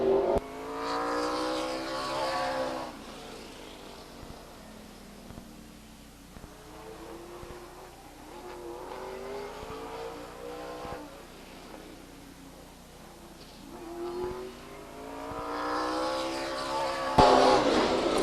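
The number 2 race car driven by Greg Potts laps the Stockton 99 Speedway oval, its engine rising and falling in repeated waves as it passes and circles, loud near the start and end and quieter between.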